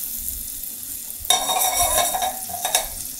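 Butter hits a hot saucepan for a sauce and breaks into a sudden crackling sizzle, busy and close, with a few stirring scrapes and no talking.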